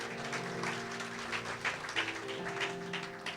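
A church congregation bursts into sustained applause, steady dense clapping ringing out over held musical tones throughout the short stretch.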